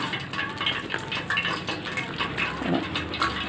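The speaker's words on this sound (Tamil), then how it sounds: "கொஞ்சமாக தண்ணி ஊற்றி பிசைஞ்சுக்குங்க" Water pours in a steady gushing stream into bajji flour batter in a bowl, running continuously and close by for a few seconds.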